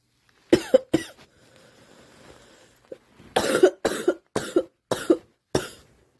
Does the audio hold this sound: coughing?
yes